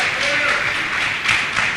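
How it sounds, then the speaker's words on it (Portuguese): A church congregation claps steadily for Jesus, a dense, even wash of applause filling the room at close range. "dê uma linda salva de palmas para Jesus"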